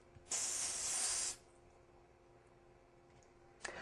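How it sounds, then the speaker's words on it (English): A spray paint can gives one steady hissing burst of about a second over a stencil, then stops, followed by quiet room tone and a faint click at the end. "we're going to put on a light spray"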